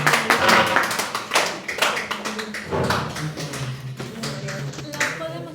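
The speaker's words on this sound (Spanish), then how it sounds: "¿Por qué se aplaude ustedes solas primero?" Students clap in a classroom, a loose, uneven patter of hand claps from a few people, fairly close and continuous with no talk.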